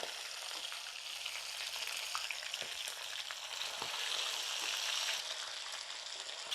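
Chicken pieces deep frying in hot oil, a steady dense sizzle with crackling pops running throughout, close and fairly loud, with no voices.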